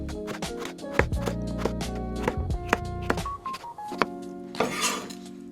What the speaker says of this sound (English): have to slice the potatoes as thin as you can possibly do